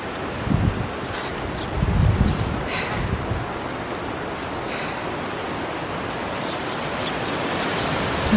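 Strong wind sweeps through the linden trees around a garden, a steady broadband rushing of leaves with louder gusts early on, continuous and fairly close, with no voices.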